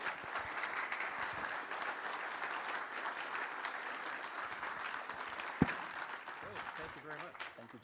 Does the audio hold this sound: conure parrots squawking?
no